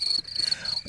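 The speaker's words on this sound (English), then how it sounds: "oh, she gave you the crickets." Crickets chirping as a comedic sound effect: a steady, high, shrill trill that runs through the short moment with no voices over it.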